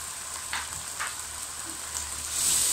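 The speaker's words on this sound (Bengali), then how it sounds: "একটু নেড়ে দিচ্ছি।" Egg posto with added coriander leaves is stirred in a pan just before coming off the heat, giving a soft, steady sizzle with a few light scrapes of the spatula.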